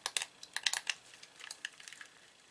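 A Quick Shot pistol-grip joystick's fire buttons are pressed repeatedly, giving quick, light plastic clicks in irregular bursts, close and fairly quiet, with no talk.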